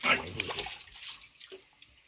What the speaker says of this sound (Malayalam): മീൻ ചാടുന്നുണ്ട് കേട്ടോ.